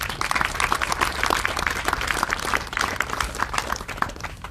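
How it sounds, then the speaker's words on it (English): A crowd at a military change of responsibility ceremony for an engineer battalion claps for the soldiers, a brisk, close round of individual hand claps that carries on steadily throughout. "Let's give them a round of applause."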